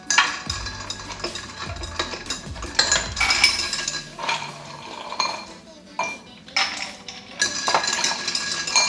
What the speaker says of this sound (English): We're gonna start to put some ice in our glasses.